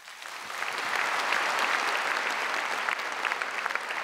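A concert audience at a jubilee concert applauds, a dense, even wash of many hands clapping that swells in and holds steady, heard from a little distance without voices.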